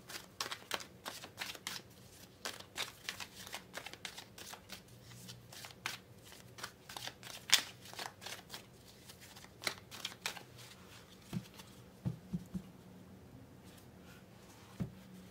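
Tarot cards are shuffled and drawn in a quiet room, giving a steady run of crisp, close card snaps and flicks with no talking.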